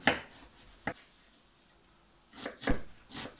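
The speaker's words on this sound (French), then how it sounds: "Donc, je vais couper les 2 oignons." An onion being cut into small cubes with a knife, a few quiet, irregular chopping taps on a board, close up and with no speech.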